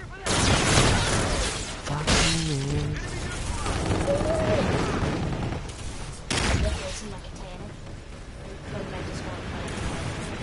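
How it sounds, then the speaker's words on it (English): Rapid bursts of energy weapon fire in Call of Duty: Infinite Warfare multiplayer gameplay, loud crackling volleys with booms, layered under excited player chatter throughout. "this is an energy weapon"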